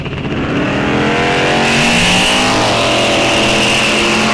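Drag race cars, among them a Chevy El Camino, launching at a raceway muscle car event, engines roaring loud and rising in pitch as they rev and pull away together.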